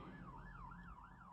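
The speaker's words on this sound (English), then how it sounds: "I can hear a siren outside my window now. I know an ambulance will come." An ambulance siren wails outside a window, its rising and falling tone repeating in steady cycles, faint and distant through the glass, with no voices.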